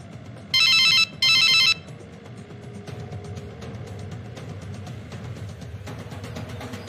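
A telephone rings in two short electronic bursts near the start, then stops and leaves only a low, steady room background.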